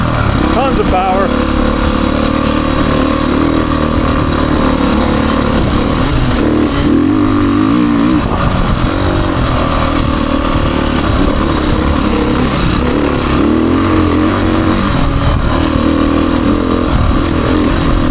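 Beta 480 XPro dirt bike engine running loud and close while being ridden, pulling hard with rising and falling revs over a steady growl; a rider talks intermittently over the engine.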